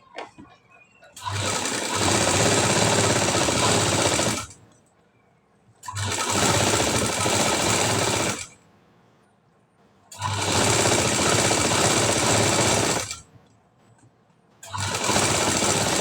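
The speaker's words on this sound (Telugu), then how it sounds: "లేదు అంటే కనుక తిప్పి కూడా మనం లైనింగ్ వైపు నుండి కూడా స్టిచ్ వేసుకోవచ్చు" A sewing machine stitches the lining of a high-neck blouse in three long loud bursts of rapid whirring, each several seconds long, separated by short quiet pauses, heard close up.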